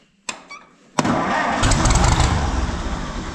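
A John Deere 8820 combine engine cranks over after a couple of brief clicks, then catches with a loud, sudden start and settles into a steady, rumbling idle close by.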